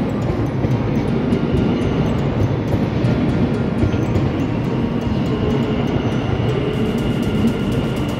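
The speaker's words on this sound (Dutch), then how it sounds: "wij gaan nu de trein naar Amersfoort pakken." A loud, continuous low rumble of a passenger train in motion in the Netherlands, heading to Amersfoort, steady and droning throughout with no talking.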